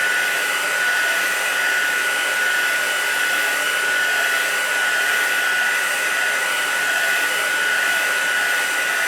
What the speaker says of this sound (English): I'm going to put this on full heat, alright? Just keep moving it so you're not in one place all the time.